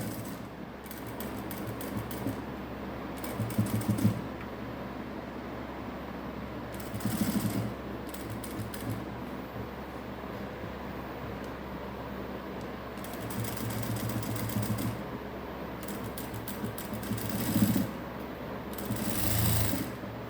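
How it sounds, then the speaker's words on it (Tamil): A sewing machine runs steadily while stitching a patchwork blouse with a decorative border along a curved edge, a continuous mechanical whir with a few brief louder bursts, no voices present. "அப்படியே அந்த ஓரத்துலேயே தையல் வரட்டும்"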